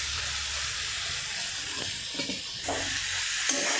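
Fried sweet potato being stirred into a prawn and taro curry in a pan, with soft scraping and stirring noises over a low steady sizzle, a few clearer strokes toward the end.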